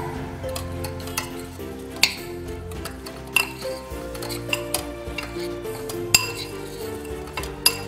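A spoon stirs a thick protein laddu mixture in a bowl, making scattered clinks and scrapes against the sides. Several sharper clinks stand out over a soft, steady scraping, with no voice heard.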